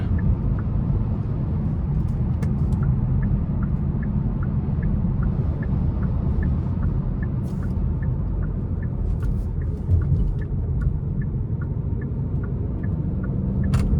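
Steady low engine and road rumble inside a Hyundai Elantra N Line cruising in normal drive mode, a constant even drone with faint ticking clicks and no talk.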